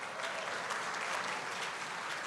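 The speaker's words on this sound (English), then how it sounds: "Ladies and gentlemen, give them a big round of applause." Gala audience applause fills the space, a steady, dense wash of many hands clapping at moderate distance, continuous and even throughout.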